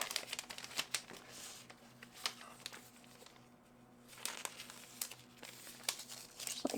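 A craft item slipped into a small plastic baggie at a craft fair setup, with crinkly plastic rustles and soft handling taps scattered through, fairly close and quiet, without talk.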